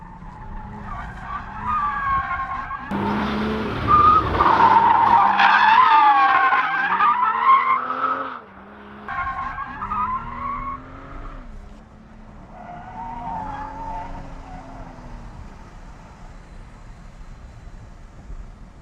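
A manual Toyota GR Supra drifts around a race track. Its tires squeal loudly and the engine wails as the revs rise and fall over a long slide, then the car eases into a fainter, wavering skid with no talking.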